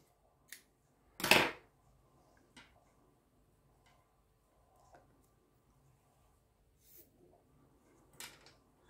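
Scissors snipping knitting yarn in a quiet room, one crisp close cut followed by a few faint small clicks and taps.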